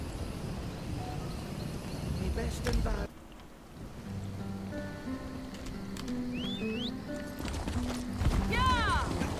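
Horse hooves clip-clop steadily while riding in The Elder Scrolls Online, the rhythmic steps sitting under someone talking, with soft rain-like ambience and a few chiming game effects.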